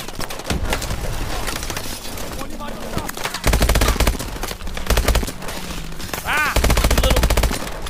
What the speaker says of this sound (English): Keep suppressing fire!